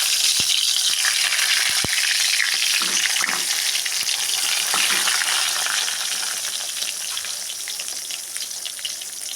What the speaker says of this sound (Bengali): তেল গরম হয়ে গেছে একে একে বেগুনগুলো দিয়ে দেবো